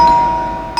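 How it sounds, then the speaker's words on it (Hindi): A doorbell rings in a home in a Hindi crime drama: a single ringing tone fades out slowly, then a fresh strike starts right at the end. "आज तो लगता है घंटी खराब करके छोड़ेंगे"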